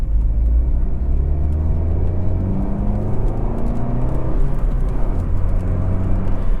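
A Baleno's engine revs hard under full throttle in second gear, a deep steady roar with rising whine, loud and close, no voices. The car is nine years old with about 150,000 km.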